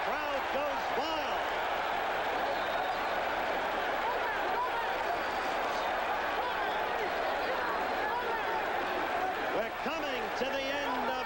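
Arena crowd at the 1978 Muhammad Ali vs Leon Spinks boxing rematch, a continuous wild roar of cheering that stays constant and dense, heard under a commentator's voice.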